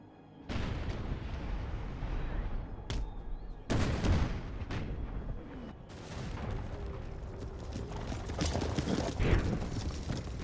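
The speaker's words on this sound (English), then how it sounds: "Mortars are firing at will" Mortar artillery fire in the video game Empire Total War, with booming shots and explosions scattered over a dense battle din of musketry and clatter, loud and continuous.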